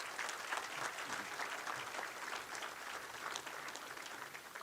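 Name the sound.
audience applause for the inductees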